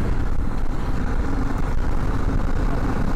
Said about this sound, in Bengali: নতুন BMW বাইক নিয়ে আজকে বার হয়ে গেছি আমরা